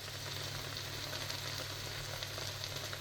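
Tuna and tomato pasta sauce cooking in a pan on the hob, a soft, even, continuous sizzle and bubbling with no voices.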